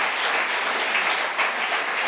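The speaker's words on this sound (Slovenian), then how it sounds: "en velik aplavz" Hall audience at a digital-future lecture event gives a full round of applause, an even, sustained patter of many hands at moderate loudness with no break.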